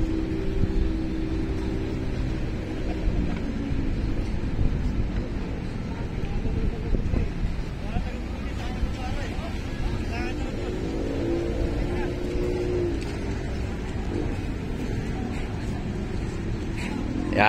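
The engine of a concrete mixer truck pouring at a construction site runs as a steady, continuous low rumble. A voice talks faintly over it throughout.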